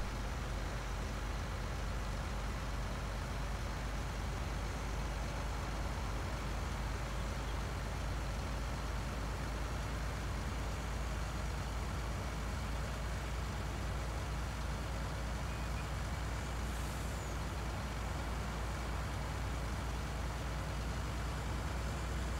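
In Farming Simulator 19 on PS4, a farm vehicle's engine drones at a constant low rumble, with no change and no talk.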